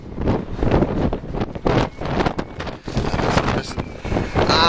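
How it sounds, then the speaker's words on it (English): Strong wind buffets a microphone outdoors in Iceland, loud and close, with heavy gusting rumble that surges and dips without letting up; no voices can be heard. "It's quite windy."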